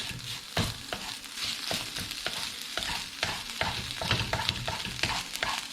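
Egg frying as a loose omelette in a pan, with a constant soft sizzle broken by repeated scraping and stirring clicks from a utensil at an even rhythm, close and fairly quiet.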